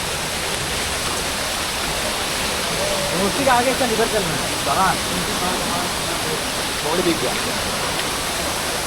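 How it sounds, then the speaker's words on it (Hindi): Constant loud rush of a hidden waterfall near Munsiyari fills the scene, with a few brief spoken words rising over the roar. "झरना कितना सुंदर झरना भाई"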